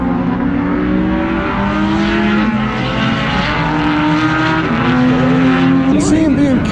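Race cars on a snow-covered track, one chasing a Mazda Miata into a braking zone, engines droning and shifting pitch as they rev and ease off, loud and continuous with a commentator talking over them.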